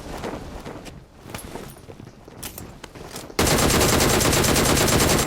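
Automatic gunfire in the battle-royale game PUBG Mobile: a quieter stretch of scattered game noise, then an abrupt, loud, sustained burst of rapid shots filling the last two seconds.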